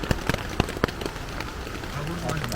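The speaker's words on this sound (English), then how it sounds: "it's raining like crazy" Heavy storm rain in winds near 70 mph drums on a tarp shelter, sharp irregular drop impacts snapping loud and close over a constant rushing wash.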